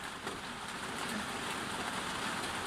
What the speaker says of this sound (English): I can't hear you over the rain, mate.